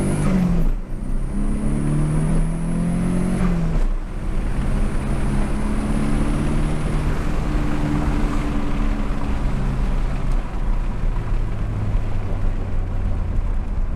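Volvo 240 with a T5 engine swap accelerating on a test drive, a loud, steady engine drone filling the cabin with a shifting pitch and a brief whine early on, with no talking.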